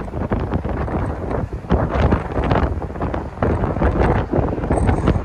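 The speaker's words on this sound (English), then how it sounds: "Wow, it's windy as heck, guys." Strong wind buffets the microphone in loud, continuous gusts while walking across the Benjamin Franklin Bridge in Philadelphia, with no talk over it.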